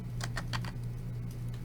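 Computer keyboard keys tapped while entering a small number into a Fusion 360 fillet field, a handful of quick, close, light clicks over a steady low hum.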